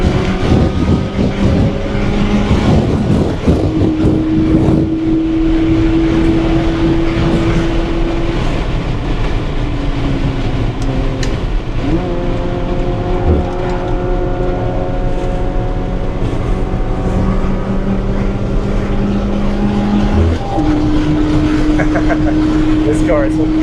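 A Honda Fit laps a race track at a GridLife Sundae Cup event, its engine droning loudly from onboard and climbing and dropping in pitch through gear changes, with steady road and wind roar underneath.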